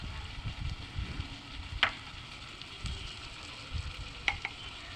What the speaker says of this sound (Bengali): এখন আমি লবণ আর হলুদ দিয়ে পটলটাকে রাত করে ভেজে নিচ্ছি।